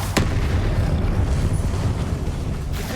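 A Confringo fire spell explodes in Hogwarts Legacy with a sharp blast near the start, followed by a dense, loud rumbling roar that holds steady for several seconds.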